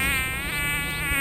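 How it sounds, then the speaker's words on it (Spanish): A horsefly buzzing close by, a steady whining drone that rises and falls in pitch as it circles nearer and farther, loud and uninterrupted. "se escucha ese zumbido molesto que se aleja y se acerca"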